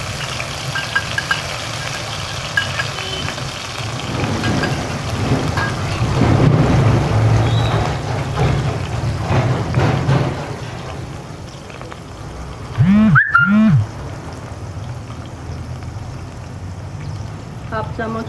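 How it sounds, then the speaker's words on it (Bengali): Ginger, garlic and green chili paste drops into hot oil, giving a steady sizzling crackle with a louder burst partway through, under occasional spoken narration. "তেল গরম হয়ে গেছে, এবারে এই আদা রসুন আর কাঁচা লঙ্কার পেস্টটা"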